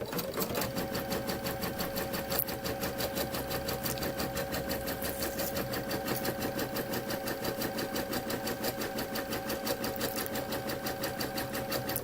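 An embroidery machine stitches a zipper in a fast, even mechanical rhythm, a close, steady chatter of needle strokes running without pause throughout.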